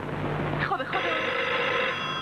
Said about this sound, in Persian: صدای تلفن